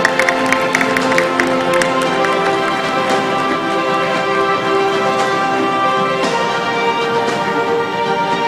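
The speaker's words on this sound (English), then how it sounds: "Can we have a round of applause for Budget?" Steady applause from an audience fills the clip, dense clapping sustained throughout with a faint musical tone underneath.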